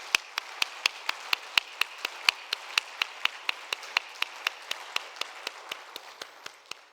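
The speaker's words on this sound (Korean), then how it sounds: "우리 감사의 박수 한번 하겠습니다" A small congregation in a church claps in thanks after a men's fellowship choir performs at an evening worship service, with distinct, fairly slow claps at a steady rhythm for about seven seconds and no talking.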